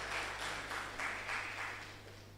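Faint clapping from an audience at a public health grand round lecture, a brief burst of rhythmic applause heard at a distance over a low steady hum.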